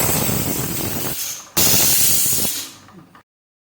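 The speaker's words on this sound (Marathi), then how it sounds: "तोपर्यंत आपल्या कुकरच्या 4 शिट्ट्या देखील झालेल्या आहेत" Pressure cooker on a home stove jetting steam from its whistle while cooking dal with spinach, a loud continuous hiss in two bursts that cuts off abruptly, no voices.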